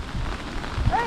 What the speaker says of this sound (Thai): โอ้โหลมแรงมากฝนก็ตก